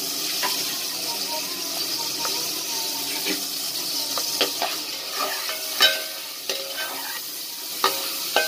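Onions frying in a small amount of hot oil in a pot while cooking pulao give a steady close sizzle, with scattered scraping clicks from stirring and no talking.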